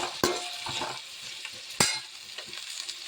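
Onions with salt sauté in a pan for a sambar, a soft steady sizzle punctuated by two sharp clacks of a spoon against the pan and a few lighter stirring knocks, close up with no speech.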